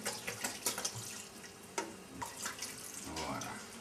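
Half a litre of water is poured into a pan of sliced mushrooms and tomatoes, a faint splashing, trickling pour with intermittent sloshes and small clatters, fairly quiet and close.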